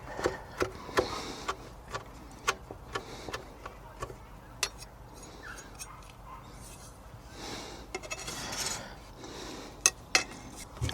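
Knife chopping a dry root into small pieces on a board: irregular sharp taps scattered across the stretch, some clustered, with faint rubbing and scraping between strikes, close and moderately loud.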